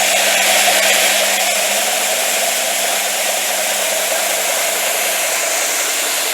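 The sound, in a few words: belt disc sander linisher motor running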